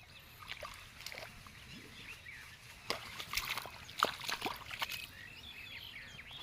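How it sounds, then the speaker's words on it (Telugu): Water running along an irrigation channel into an onion field outdoors. It trickles and sloshes faintly and unevenly, with a few brighter splashy bursts and bird calls in the background. "చూడండి, కాలువలో నీళ్ళు అయితే వస్తూ ఉన్నాయి."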